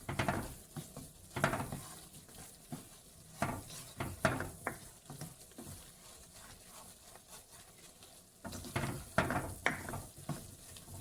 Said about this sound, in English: You want to fry that in pretty good. kind of like you're making a roux.